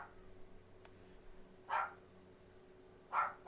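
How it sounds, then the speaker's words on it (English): A dog barks twice at a distance, two separate muffled barks about a second and a half apart over a quiet indoor hum. "God damn it, you're barking again."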